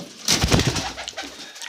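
Pet pigeons coo nearby, a few soft throaty rolling calls in short bursts, with faint background noise around them.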